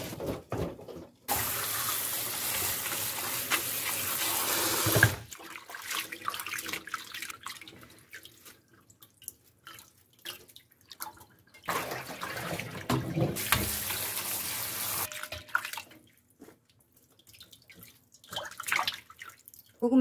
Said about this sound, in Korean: 그럼 불을 끄고 헹궈 줄게요.